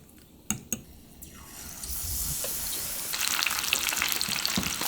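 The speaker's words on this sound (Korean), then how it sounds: "나무젓가락 끝이 보글보글 끓어요." Hot oil for deep-frying shrimp-stuffed peppers: a couple of sharp clicks, then steady bubbling and sizzling that swells louder and busier, close to the pan.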